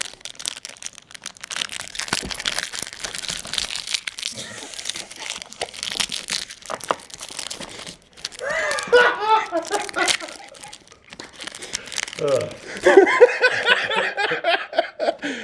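Magic: The Gathering Ice Age booster pack wrapper crinkling and tearing as it is opened, with busy close rustling and crunching in bursts while a person talks.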